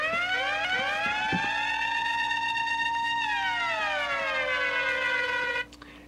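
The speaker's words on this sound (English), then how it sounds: "Here you have your alarm." The alarm sound effect in DJ Studio 4 software wails as a loud, continuous siren whose pitch rises and then falls before cutting off abruptly near the end.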